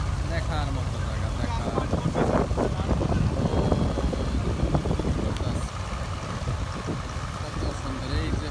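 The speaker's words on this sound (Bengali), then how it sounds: "এই যে 3টে স্টিমার চলতেছে অনেক সুন্দর।" Steamers, launches and trawlers moving on the Padma river in Bangladesh, heard as a steady low engine-and-water rumble with heavy wind buffeting the microphone throughout.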